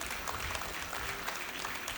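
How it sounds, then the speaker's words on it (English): Steady applause from an audience at the inauguration of a university management complex, a continuous, fairly soft wash of many hands clapping with no break. "Give him a big round of applause."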